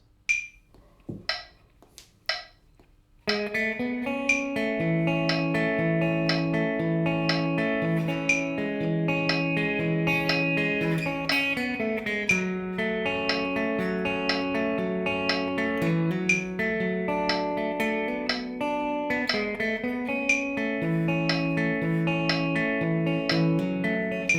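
Guitar plays the A section of a song at 60 BPM, a steady chord passage after a few sparse opening plucks, continuing evenly throughout with ringing sustained notes.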